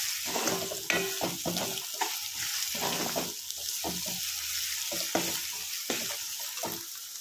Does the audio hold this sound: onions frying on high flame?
yes